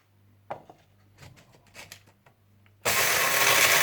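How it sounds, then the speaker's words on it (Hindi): Whole coriander, cumin, fenugreek, citric acid and black peppercorns go into a coffee grinder, first a few close clinks and rattles as the spices drop in, then the grinder starts with a loud, steady, high whir. "काफी ग्राइंडर में साबुत धनिया, जीरा, मेथी दाना, स्ट्रिक एसिड और काली मिर्चें डालकर बारीक पीस लीजिए"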